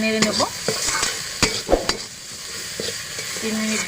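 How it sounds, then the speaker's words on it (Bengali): Mashed bean paste is stirred in a hot pan, sizzling close by under repeated scraping and knocking strokes of the spatula against the metal. "আমি এবার শিম বাটাটা ভালো করে নাড়বো"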